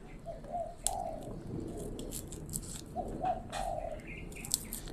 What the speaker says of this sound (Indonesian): Ada burung perkutut di belakang.